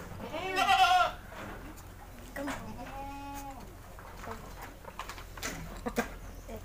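Young goat kids, about three weeks old, bleating at a farm: a loud wavering bleat opens, followed by softer bleats and calls amid background noise and brief bird-like chirps.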